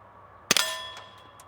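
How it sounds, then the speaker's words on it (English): A sharp metallic clank from a rifle's bolt action, suppressed by a Yankee Hill Phantom 30 caliber silencer, and an impact ring on a target, followed by a few faint pings, close and otherwise quiet. "The only thing you hear is the bolt moving and the round smacking the target"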